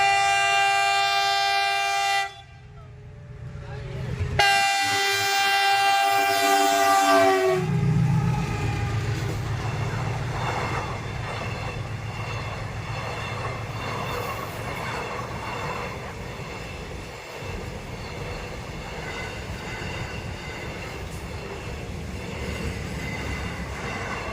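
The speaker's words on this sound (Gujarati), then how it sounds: "અને ટ્રેન આટલી પણ પહોંચી ગઈ છે જો, સામે દેખાય ટ્રેન જો" A train passing a closed railway level crossing, opening with a loud sustained horn blast that cuts off, then a long rumbling, rattling roar of wagons rolling past close by.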